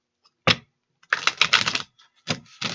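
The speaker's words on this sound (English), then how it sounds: "One more shuffle." Tarot cards shuffled by hand at close range, several crisp bursts of riffling and flicking separated by short pauses, with no talking.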